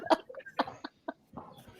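A man gives a short burst of coughs, two or three sharp hacks close to the microphone followed by a rougher throat sound, in a quiet room.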